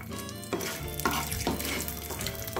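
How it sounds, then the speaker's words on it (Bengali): Peanuts frying in a little oil in a pan, a close sizzle with several stirring scrapes and rattles as the nuts are moved around. "এবার বাদামগুলোকে একটুখানি ভেজে নেব"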